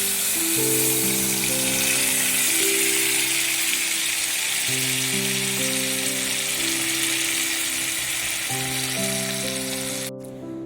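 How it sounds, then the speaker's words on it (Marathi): Steady, close oil sizzle and crackle of spices frying in hot oil, running continuously beneath a repeating music track before cutting off at the end. "अशी मस्त अशी फोडणी त्याला दिली आहे"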